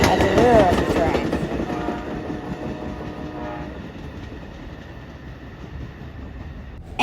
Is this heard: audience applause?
no